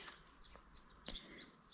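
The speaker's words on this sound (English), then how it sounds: "Birds are singing." Small birds chirping and tweeting in short, scattered bursts on a sunny mid-January mountain walk in Grazalema, faint and somewhat distant against quiet open air.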